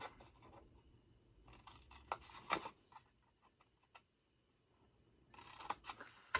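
Scissors snip a few quiet strokes through a paper template for a Halloween treat box, cutting straight up to the score line, with soft isolated clicks and brief pauses between cuts.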